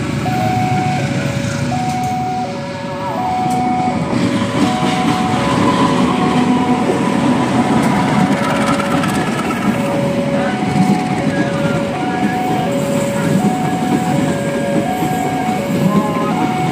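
A CC204 diesel locomotive hauling an extra train rolls through a small railway station, a loud continuous rumble and wheel clatter under a repeating melodic two-tone signal.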